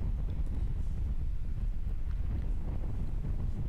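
A strong gust of wind on an outdoor disc golf course blows across the microphone as continuous loud, low buffeting that stays steady throughout, with no talking.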